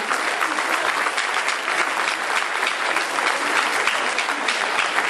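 A hall audience at a Téléthon event in Villabé claps steadily and densely for several seconds, with no talk over it.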